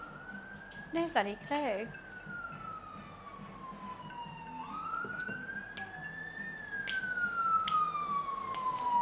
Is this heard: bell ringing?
no